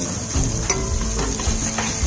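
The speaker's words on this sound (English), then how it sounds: "raw mango which is grated into this. And again give it a nice mix." Grated raw mango stirred and frying in a pan for spicy poha, a steady close sizzle under scraping stirring strokes, no voices.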